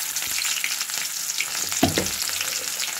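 Onion frying in hot oil crackles and sizzles steadily up close, with a brief clatter of stirring midway and no voices.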